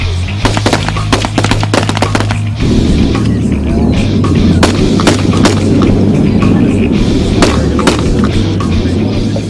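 Bursts of gunfire and explosions crack repeatedly and loudly over a steady rumble during a military stress-shoot training exercise, some booms sharp and close, others overlapping in a dense barrage.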